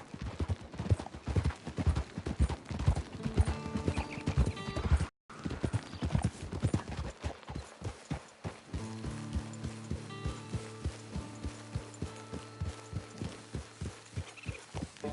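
Horse hooves clip-clop steadily in Red Dead Redemption 2, a brisk even rhythm of close, loud hoofbeats that briefly cuts out and then resumes with a low sustained tone underneath.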